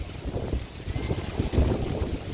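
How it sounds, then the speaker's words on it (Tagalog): Strong wind buffets a boat out on the water at a fishing tournament, a continuous roaring rumble with gusty low-end microphone buffeting and a louder surge near the end. "grabe ng lakas ng hangin"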